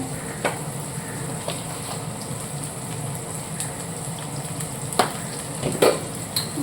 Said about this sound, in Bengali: এদিকে টমেটো, পেঁয়াজ, লঙ্কা সব ভাজা হয়ে গেছে